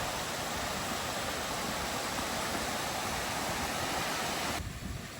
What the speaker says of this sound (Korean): 자, 쌍용폭포